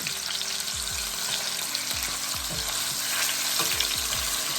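Turkey necks sear in a hot pan with a loud, dense, continuous sizzle that stays close and constant throughout, with no voices.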